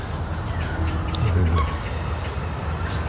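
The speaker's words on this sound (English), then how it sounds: "If you listen to the bird sounds that are generally surrounding us" Tasmanian birds call softly outdoors beside an old bus, with scattered chirps over a steady, noisy background.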